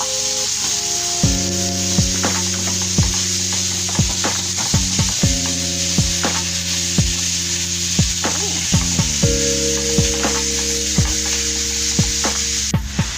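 Minced beef sizzles steadily in a hot pan, with regular scraping stirs and clacks of a utensil over a constant frying hiss, close and loud.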